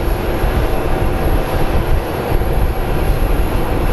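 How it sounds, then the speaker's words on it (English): A small SkyWest CRJ regional jet being pushed back from the gate gives off a loud, steady low rumble with a constant high whine above it, close by and without talk. "this little CRJ is being pushed out"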